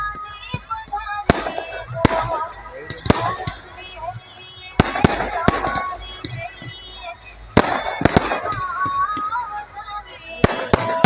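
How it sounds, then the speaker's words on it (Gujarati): Firecrackers go off at a village Tulsi Vivah celebration, a long irregular string of sharp, loud bangs and crackling pops, some close together in bursts, with voices murmuring faintly underneath. "ફટાકડા ફૂટી રહ્યા છે"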